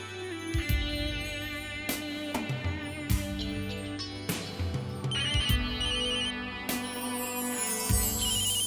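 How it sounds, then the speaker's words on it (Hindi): A mobile phone ringtone plays repeatedly in an indoor domestic setting, a clear melodic ring repeating with steady rhythm and moderate loudness, with no talk over it. "तुम्हारे डियर हस्बैंड का फोन यहीं रह गया है। बज रहा है, उठा लो।"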